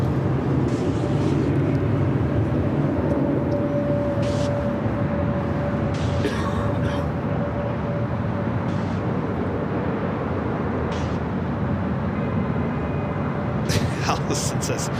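An Air France Boeing 777-300ER arriving at LAX from Paris gives off a steady, distant jet rumble, with a person talking over it.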